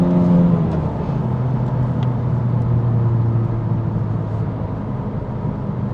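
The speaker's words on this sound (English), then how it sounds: "this is a third gear pull." A 2021 Honda Civic Type R under full throttle in third gear, a loud steady engine drone heard from inside the cabin that holds a strong tone throughout the pull, with no talking.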